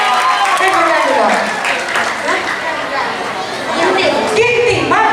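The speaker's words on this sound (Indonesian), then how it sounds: "Tepuk tangan dulu." Audience applause breaks out at a church celebration, steady clapping mixed with lively crowd chatter and raised voices all the way through.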